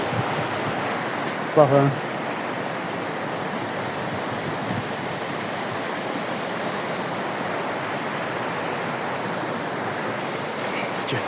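A river rushes in a steady, loud wash of flowing water during a possible flood, nearby and continuous, with a brief spoken word near the start.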